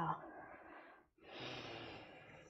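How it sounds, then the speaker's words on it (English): A slow yoga breath: a breathy exhale trails off into a short pause, then a long, soft, airy inhale follows, close and faint. "One more inhale."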